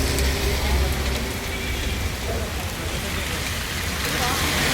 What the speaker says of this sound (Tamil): ஆனால் வந்து மழை திடீர்னு சடன்னு வர ஆரம்பிச்சிருச்சு.